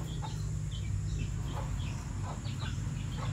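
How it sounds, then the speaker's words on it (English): Chickens cluck and call repeatedly over a steady low hum, with a white rooster among the flock in the Philippines; the calls are moderately close and irregular. "that's the white rooster"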